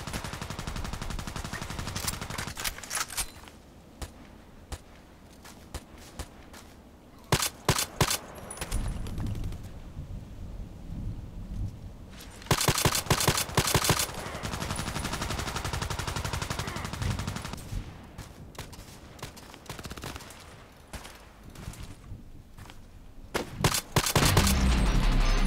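Video game gunfire crackles in rapid automatic bursts and single shots, loud and close, in clusters separated by quieter stretches of game ambience.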